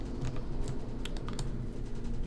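Someone presses keys on a computer keyboard: a handful of crisp, irregular clicks with short gaps between them, close by and with no voices.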